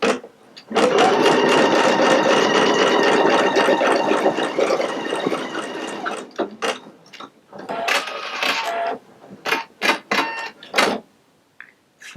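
A Pfaff Creative Icon 2 embroidery machine stitching ribbon in the hoop whirs in a loud, steady run for about five seconds, then breaks into shorter bursts with brief pauses, close by and with no voice over it.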